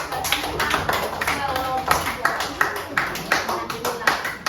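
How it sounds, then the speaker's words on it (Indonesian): A classroom of primary school pupils clapping for a student group after their presentation, brisk uneven claps from many small hands, close and fairly loud, with children's voices mixed in. "Ya, kasih tepuk tangan dulu untuk"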